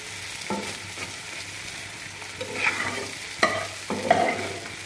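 Cow tripe tempering in hot oil in a pan gives a steady close sizzle, with a few louder scraping bursts where it is stirred. No one talks.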